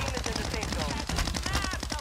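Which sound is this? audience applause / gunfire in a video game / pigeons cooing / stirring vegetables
gunfire in a video game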